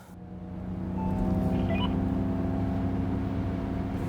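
Artificial drive sound of an electric Ford Mustang in its Untamed driving mode, a synthetic engine-like hum with layered low tones that swells over the first second and then holds steady and fairly loud.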